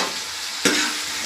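Browned onions and tomatoes sizzle in a hot pan for a fish curry while a spoon stirs them, a steady frying hiss with one clear scrape of the spoon.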